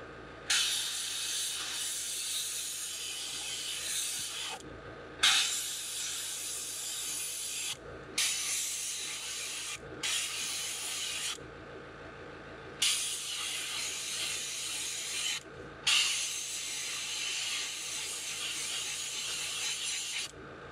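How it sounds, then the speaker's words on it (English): Black paint sprayed through a stencil onto a fishing lure, a series of steady airbrush hisses in bursts of a few seconds each, separated by short pauses, close and clear with no talking. "And let's make sure we're spraying good."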